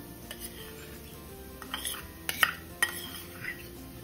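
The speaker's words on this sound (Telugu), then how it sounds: "ఇప్పుడు మనం ఉడకపెట్టుకున్న కందిపప్పు వేద్దాం" Boiled toor dal going into a pan of cooked drumstick (moringa) leaves, heard as soft metallic clinks and scrapes of a spoon against the pan over a quiet background, with a few sharper knocks.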